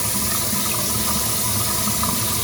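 Filtered tap water runs steadily into a sink to wet the face before a wet shave, a loud, close, unbroken gush of flowing water throughout.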